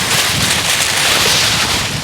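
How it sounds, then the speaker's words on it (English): Strong wind buffeting outdoors beside a Rivian R1T pickup, a steady broadband roar with gusty rumble pressing on the microphone, loud and continuous with no voices. "Pretty windy out here today."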